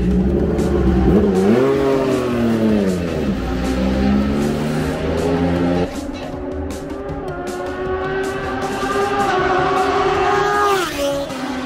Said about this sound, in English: here's how Moto2 looks and sounds like at night here in Qatar.